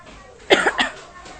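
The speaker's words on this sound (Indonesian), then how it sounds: "Sorry ya batuk-batuk." Two or three close, loud coughs in quick succession from a man in an Indonesian football talk show, alone with no speech.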